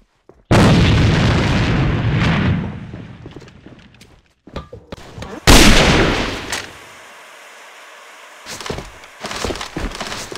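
A C4 charge detonates in the shooter game AVA: a loud sudden blast with a long rumbling, splintering roar that fades, followed by a second heavy boom and scattered bangs and gunfire.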